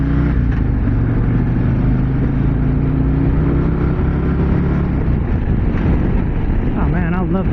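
A 2024 Harley-Davidson Street Glide's V-twin engine drones steadily while the bike is ridden, a loud, continuous low rumble mixed with wind rush throughout, with a brief rising whine near the end.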